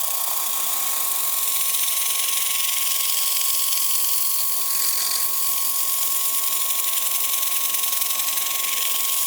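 A wood lathe turns a bowl at raised speed while the bottom is shaped and sanded, giving a steady, loud, high whine with a constant tone and broadband hiss throughout, no voices.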